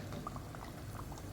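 Quiet, steady sizzling and bubbling of Malabar poricha pathiri (flatbread) frying in hot oil over a medium flame, with small pops scattered through the faint background.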